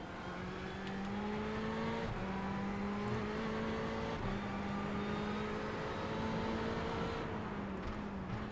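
Race car engine droning steadily in the iRacing sim at Daytona, a sustained loud tone with slight pitch sweeps as it shifts and holds speed, alone with no talk.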